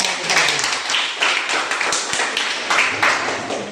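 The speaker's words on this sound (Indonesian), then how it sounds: "Tepuk tangan dulu kan?" A school class claps hands in a classroom in several short, rhythmic bursts of close, fairly loud clapping with brief gaps between them.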